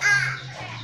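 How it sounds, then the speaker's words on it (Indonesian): A small scops owl gives a single harsh, raspy call lasting under a second, fairly close and loud, with a steady low hum underneath. "Yang jelas ini adalah jenis burung hantu yang postur tubuhnya kecil, paling kecil ya ini."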